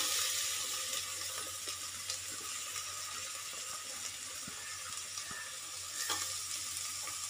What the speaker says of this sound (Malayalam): ഇനി നമുക്കിതിലോട്ട് അരിഞ്ഞു വെച്ചിട്ടുള്ള സവാള ഇട്ട് കൊടുക്കാം.